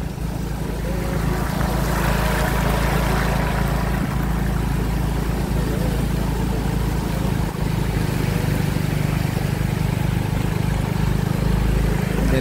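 Swift floodwater rushes past, a loud, continuous broadband roar with a deep rumbling undertone, steady and close throughout.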